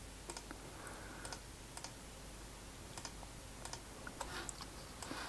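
Quiet, scattered clicks from a computer mouse and keyboard, a few sharp taps spaced irregularly over a faint background hiss.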